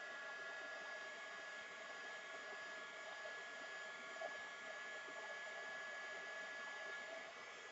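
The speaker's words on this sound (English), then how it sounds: "we're just going to take the heat gun Remove that. And you just heat it up." Heat gun blowing steadily while wax is melted onto a hand spindle, a continuous airy whoosh at moderate level with no talking.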